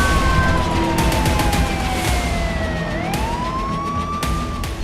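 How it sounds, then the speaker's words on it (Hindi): Alert sirens wail across Ashkelon during a rocket attack, a loud rising and falling tone that dips and climbs again, sounding steadily over a dense background roar. "पूरे इलाके में अलर्ट सायरन गूंजने लगे"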